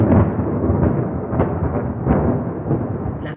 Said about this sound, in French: un éclair déchira le ciel, suivi d'un grondement de tonnerre assourdissant.